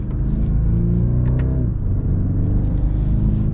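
BMW 230i Coupe engine in Sport Plus mode on a track, a steady loud rumble rising in pitch and then dropping off as it revs, heard from inside the car with no talk.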